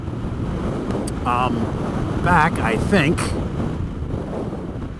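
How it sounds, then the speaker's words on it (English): Low wind buffeting rumbles across the microphone throughout on a Triumph Scrambler 1200 motorcycle ride on a windy 75-degree day, while a person speaks briefly over it. "It's really windy today, but it's 75 degrees, so you might be picking up the wind"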